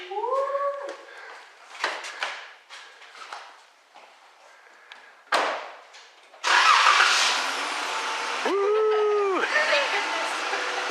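A 1984 Ford Mustang GT350 engine cranks in short bursts, then catches and roars loudly to life, rising and settling into a steady high rev, with tonal squeals and voices talking over the early attempts.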